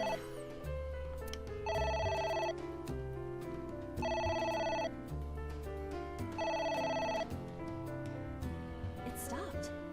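A telephone rings in the video game AI: The Somnium Files, sounding in three evenly spaced electronic bursts over the game's background music.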